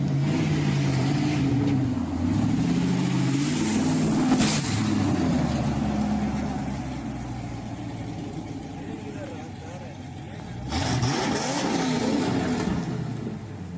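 A sports car with a 348 mph top speed drives past, its engine roaring loudly as it accelerates. The engine note rises and falls through gear changes, and a second burst of acceleration comes later.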